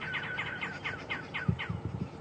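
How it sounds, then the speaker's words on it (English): Babblers calling in the background at a bush junction on a sunrise safari drive, a string of quick chirping, chattering notes from a few birds at moderate distance, with no talk. "You can hear the babblers just in the background there."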